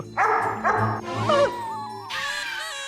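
A dog gives a run of short, high-pitched yips and whiny barks, several close bursts in a row with brief gaps, loud and near, with no speech over them.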